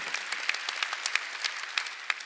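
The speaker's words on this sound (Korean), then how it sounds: "박수. 올라가야 된다는 거예요." A short burst of steady applause at a church Sunday service, many hands clapping together at moderate volume from a crowd a little distance away.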